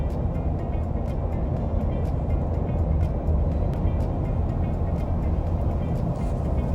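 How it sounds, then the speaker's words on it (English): A Ford F350 Super Duty pickup with a 6.7L turbo diesel cruises along a road at speed, a steady low rumble and road roar with faint ticking clicks over it and no talk. "this is the first time I've driven a F350 Superduty, and I mean it drives really well"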